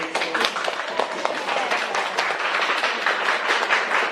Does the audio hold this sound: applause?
yes